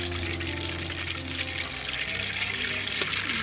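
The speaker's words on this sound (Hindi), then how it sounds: "और ये हाफ लीटर पानी शामिल कर रही हूँ" Half a litre of water pours steadily into a pot for sugar syrup, a continuous close splashing rush with no one talking over it.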